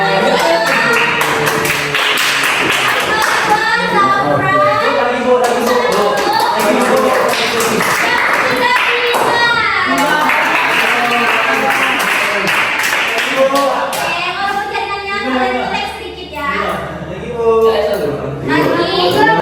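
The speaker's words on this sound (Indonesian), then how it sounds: "pertama Kinji, tepuk tangan dulu" Children clap their hands in an Indonesian classroom during a teaching practice lesson, loud sustained rattling applause mixed with children's chatter and a teacher's voice close by.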